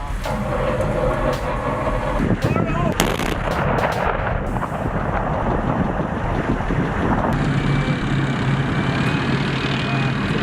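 A rocket firing at an army proving ground comes through as a heavy, continuous roar with wind buffeting the microphone and a few sharp cracks partway through, loud and sustained throughout.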